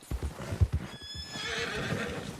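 Horses in a video game: several clopping hoof beats in quick succession, then a loud, drawn-out neigh with a bright whinnying quality, close and clear, with no speech.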